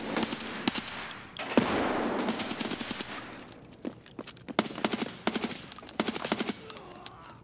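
Video game gunfire crackles in rapid automatic bursts and single shots, loud and dense, with brief gaps between volleys.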